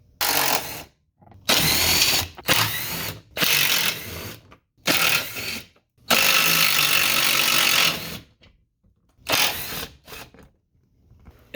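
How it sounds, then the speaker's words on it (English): Power tool whirring in repeated short bursts as it backs out the bolts on a car's belly tray during a transmission fluid temperature sensor job, close and loud, each burst separated by brief silences, with one longer run near the middle. "So we'll just take all those bolts out and drop the belly tray here so we have access to everything."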